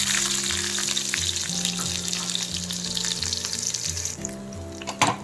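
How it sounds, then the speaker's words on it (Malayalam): Mustard seeds and small shallots fry in hot coconut oil for sambar, a loud close steady sizzle with crackling pops over a low continuous background hum, no voices. "വെളിച്ചെണ്ണ ചൂടാകുമ്പോൾ അതിലേക്ക് കുറച്ച് കടുകിട്ട് പൊട്ടിക്കഴിഞ്ഞാൽ ഒരു 4-5 ചെറിയ ഉള്ളി,"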